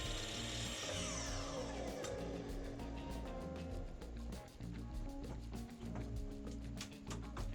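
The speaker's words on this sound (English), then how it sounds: "The old Makita is still running good as gold" An old Makita power saw cuts wood for replacement shed doors, a loud continuous motor whine with shifting pitch and rapid rattling close by, and no talking.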